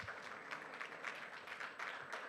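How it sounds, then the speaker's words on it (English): Quiet, fairly distant audience applause at an event as the final team is called to the stage, a soft continuous patter of clapping with slight swells. "extra big round of applause for being the final team of 20"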